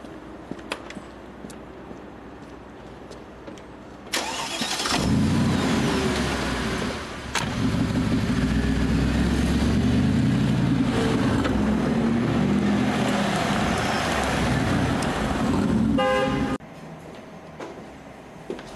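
A car engine revs up and the vehicle pulls away, a loud, steady broadband roar with rising low rumble that holds for about twelve seconds before cutting off, with no talk over it.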